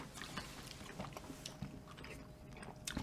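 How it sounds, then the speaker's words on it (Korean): Someone eats a Korean home meal of cheonggukjang jjageuli stew, octopus-shaped Vienna sausages and kimchi, with faint close chewing and biting sounds repeating at an irregular rhythm. "너 전투적으로 먹고 있다"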